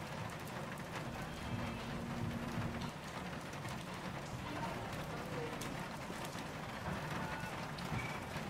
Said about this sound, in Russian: В первый день Гонконг встретил меня ливнем